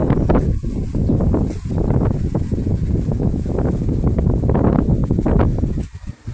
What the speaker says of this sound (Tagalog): super hangin dito sa amin.